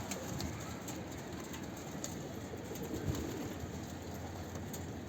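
A dolapçı tumbler pigeon coos softly at close range over a steady hiss of background noise, its low calls repeating through the whole stretch.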